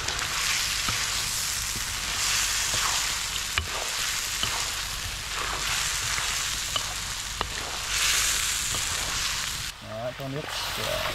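Beef bone marrow stir-fried in a pan for a hotpot, giving a steady, loud, broadband sizzle that runs unbroken throughout, with a brief voice near the end.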